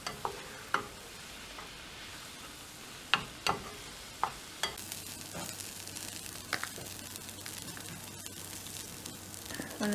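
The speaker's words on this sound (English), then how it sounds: "Just going to let it cook a bit more" Spaghetti cooks in a pan, giving a steady sizzle and frying hiss with scattered clicks and scrapes of stirring, fairly quiet and continuous with no talking.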